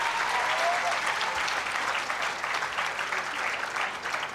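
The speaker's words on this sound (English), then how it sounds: "A round of applause for Joel Mutua." Sustained audience applause at a college commencement ceremony as an award winner is called up, a steady dense clapping wash throughout with faint voices mixed in.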